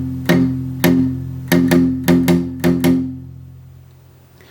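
Electric guitar plays a downstroke riff from a song: seven sharp palm-muted chugs in an uneven eighth and quarter note pattern, each decaying quickly, then fading out.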